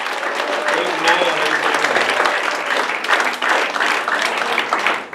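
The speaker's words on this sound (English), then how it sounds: "Give the Lord a big hand clap of praise." A church congregation applauds with sustained, dense clapping of praise that continues throughout.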